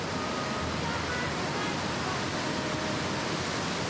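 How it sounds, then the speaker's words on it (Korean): A continuous broadband rush of falling water, steady and enveloping, as a stream cascades down terraced falls at Plitvice Lakes in Croatia, with no pauses. "호수에서 시작된 물줄기가 계단식 지형을 따라 다채롭게 흘러내리고"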